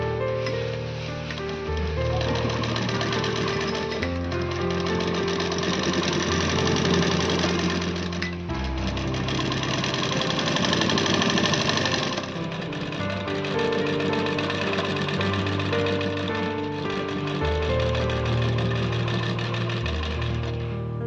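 A sewing machine runs almost without a break as it stitches a thin fabric cord (dori) with its smallest stitch. The rapid mechanical whirring stays close and steady, easing off only briefly.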